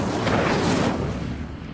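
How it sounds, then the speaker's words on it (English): Incendio fire spell cast in Hogwarts Legacy, heard as a single loud roaring whoosh of flame that swells quickly and lingers, fading slowly over nearly two seconds. "Conjuring fire might work. These are pyres, after all. Accio. Incendio."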